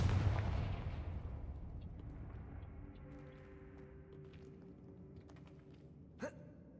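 A Confringo blasting spell explodes in the video game Hogwarts Legacy, a loud booming burst at the start that decays into a rumbling tail, with a brief sharp crack near the end.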